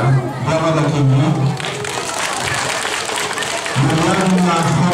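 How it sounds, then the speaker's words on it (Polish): Crowd applause at an outdoor Kashubian Day festival in Chwaszczyno, a steady loud clapping wash with a voice talking over the start and end. "Brawa dla Kimi."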